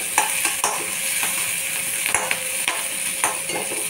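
Green chillies sizzle steadily in a hot pan for a dosa potato filling, with a few sharp scrapes and clinks of a spoon stirring them, close and continuous with no talking.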